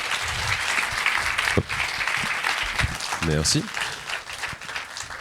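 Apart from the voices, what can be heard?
audience applause at a festival ceremony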